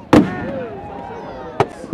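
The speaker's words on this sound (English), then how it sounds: "Winchester Roundtable put on the biggest fireworks display the city has ever seen on Saturday night." Two sharp fireworks bangs from the Winchester Roundtable bonfire night display, the first near the start and a second about a second and a half later, with a faint crackle and hum of crowd noise between them.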